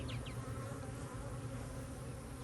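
Honey bees droning around open hives during a hive inspection, a continuous close buzz over a low, steady hum.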